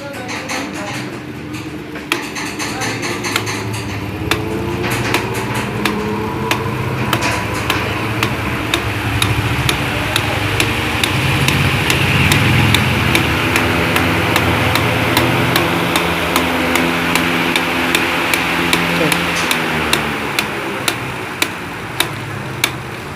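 A pedestal fan switched on directly after having its power lead replaced gives a steady whirring motor hum under a repeating mechanical ticking and light knocking that continue for the whole stretch, fairly loud and close, with no talk.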